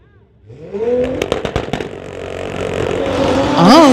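A Toyota Supra and an Audi launch in a street-legal drag race, engines revving loud and close with a sharp rising roar and rattling, climbing in pitch toward the end.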